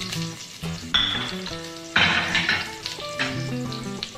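Small shallots and mustard seeds crackle and sizzle in hot oil in a pan for a Trivandrum-style fish curry, with a louder burst of frying partway through, under steady background music.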